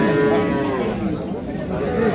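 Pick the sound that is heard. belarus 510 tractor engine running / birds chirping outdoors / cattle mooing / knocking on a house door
cattle mooing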